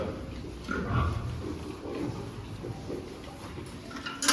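Piglets on a farm, the larger ones due for deworming, grunt and oink close by in a barn setting. The short grunts come irregularly and moderately loud, and there is no talk.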